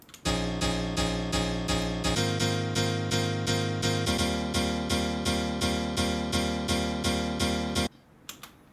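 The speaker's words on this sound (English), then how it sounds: "So this is actually a really cool piano instrument." A metallic, plucky synth piano for future house plays a repeating chord pattern in steady, crisp stabs that shift chords every couple of seconds, bright and up front, ending abruptly with a faint tail and no voices.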